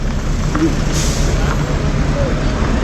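Busy road traffic with trucks and cars on a trip toward Mumbai, a steady dense rumble of passing vehicles with a brief hiss like an air brake partway through.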